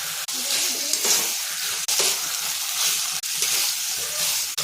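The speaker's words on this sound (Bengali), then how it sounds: "এবার মাংসটা দিয়ে দিই।" Pigeon meat hits hot spiced oil in a wok with a loud, continuous sizzle, broken by a few brief dips as it is stirred, close and with no talking.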